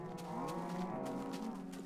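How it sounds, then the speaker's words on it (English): A cow in a farming video game gives a long, steady, low moo that carries over a constant background hum, with no talking. "Hello, cow."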